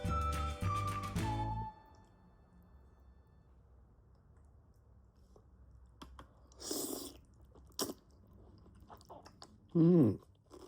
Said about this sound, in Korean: 지금 아삭아삭한 소리 들리잖아요.